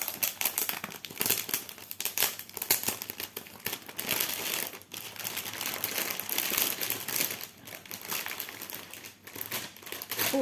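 Plastic packaging of a stamped cross-stitch kit crinkles and rustles loudly as it is opened and unwrapped, a busy, close run of crackling and tearing bursts with short pauses.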